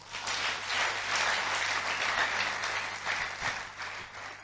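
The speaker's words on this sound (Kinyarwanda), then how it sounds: "reka dukomere Imana amashyi" Church congregation applauding steadily for several seconds, a dense even patter of many clapping hands at moderate level with no speech over it.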